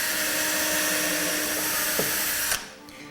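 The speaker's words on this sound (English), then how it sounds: "the first tool we're going to be using is our drill bit with the countersink on it." A power drill with a countersink bit boring a hole into bird house wood, a loud continuous whir that drops in pitch under load before cutting off abruptly, up close.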